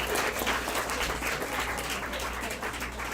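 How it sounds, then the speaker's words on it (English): An audience at a poetry slam applauds a poet, a dense, even wash of many hands clapping, steady and fairly distant for a few seconds. "We will applaud the poet."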